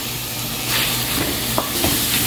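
Ground meat hitting a hot pan of oil, chopped onion and garlic, sizzling loudly and steadily, with a few stirring scrapes near the end.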